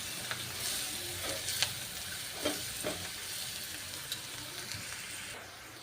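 Chili powder sizzles in hot oil while it is stirred for a beetroot dish, a soft continuous frying hiss with light scraping taps from the stirring, fairly quiet and close, with no talk.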